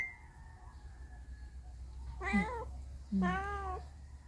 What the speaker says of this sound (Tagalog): Pag ganyan ang tunog guys, may hinuhuli yan siya.